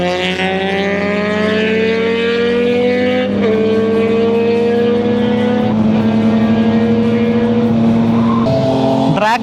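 Superbikes accelerate hard in a drag race on a Hyderabad street, engines roaring loud and close with steadily rising pitch and several distinct gear shifts over about nine seconds.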